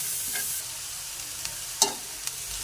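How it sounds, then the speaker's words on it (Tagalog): Carrots and cabbage stir-fried together in a pan already used for sautéing onion and garlic give a steady soft sizzle, with a few quick scrapes and clinks of a utensil, and no talking. "pinagsabay ko na lang yung carrot tsaka cabbage"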